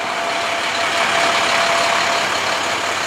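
A White House fire rescue engine, number 85, idles steadily at an extrication training scene, a continuous broadband diesel rumble and hiss holding level throughout with no talk.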